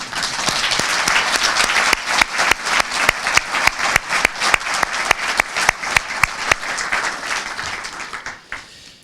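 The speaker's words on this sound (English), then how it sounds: "Can we give a round of applause for the Navy Band Brass Quintet?" Audience at a Department of Defense award ceremony applauds the Navy Band Brass Quintet, a full crowd whose clapping falls into a regular, almost unison beat before tapering off at the end.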